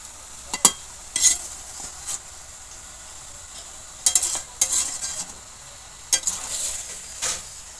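A metal spatula stirs meat in a large wok. About six short bursts of scraping and clinking rise above a faint, steady sizzle, with quiet pauses between them.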